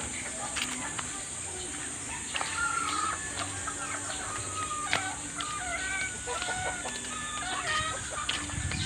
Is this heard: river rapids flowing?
no